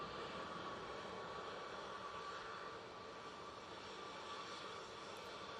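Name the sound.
KLM airliner taking off at Manchester Airport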